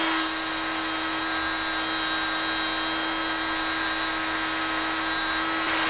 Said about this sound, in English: I'll take my standard cordless drill and a linen mop